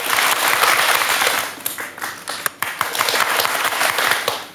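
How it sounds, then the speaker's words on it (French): Applause triggered by a homemade applause switch on a French TV talk-show set: a steady, fairly loud wash of crowd clapping lasting the whole clip with no talk. "on a fabriqué aussi l'interrupteur à applaudissements"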